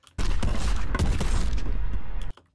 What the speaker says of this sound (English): the explosions sound really cool